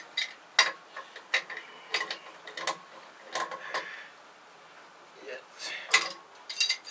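A wrench works on a pipe fitting on a Fisher 30 boat refit, making a series of close metallic ratcheting clicks and scrapes in uneven bursts, with short pauses between strokes.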